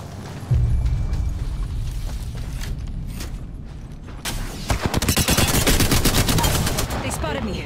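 Gunfire in the video game Apex Legends: a quiet stretch of low rumble and scattered shots, then loud rapid automatic bursts that rattle on nearly continuously, with a voice briefly speaking.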